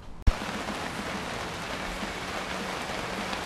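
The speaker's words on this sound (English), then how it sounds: "right now I know it's raining pretty good" Steady heavy rain pours down outdoors, a dense continuous hiss broken only by one sharp knock near the start, with no voices heard.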